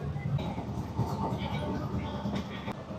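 A Sealdah–Ranaghat AC local train runs at speed, heard from inside as a constant loud rumble and rattle with faint rhythmic clatter throughout.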